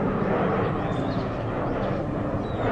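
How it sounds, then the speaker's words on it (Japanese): A continuous low droning roar of an airplane passing overhead in the anime Tokyo Majin, steady and broad, with no voices. "飛行機。"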